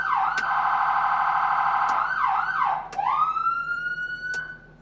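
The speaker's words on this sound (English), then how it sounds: "Our siren." Emergency siren on a 2013 Ford F-450, cycling through loud, close sweeping wails and rapid yelp-style warbles, sounding alone with no talk.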